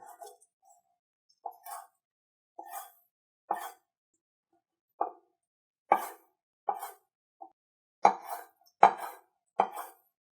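A knife slices raw tuna into small pieces on a board, giving about a dozen short, separate chopping taps in an irregular rhythm, close and fairly soft with quiet gaps between cuts.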